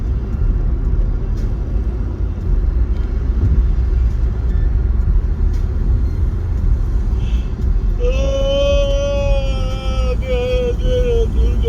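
A car drives along a highway with a loud, steady rumble of engine and road noise filling the whole stretch; near the end a tonal whine or horn-like sound rises over the drone.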